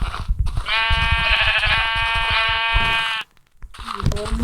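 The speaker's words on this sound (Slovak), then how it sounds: "Je ovca." Sheep in the Minecraft video game bleating in one long, loud, wavering cry with background clicks, followed by a brief quiet gap and faint noises.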